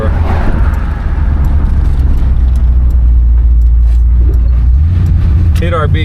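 A 1969 Ford Fairlane convertible cruising on the road, heard from inside: a constant low engine and road rumble with wind noise, loud and steady, briefly shifting near the end as it hits a dip.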